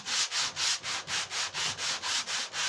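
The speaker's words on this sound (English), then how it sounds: "We sand a small area of the wood like this." Steady back-and-forth rasp of sandpaper on wood, about ten even strokes in a regular rhythm, close and fairly quiet with no talk.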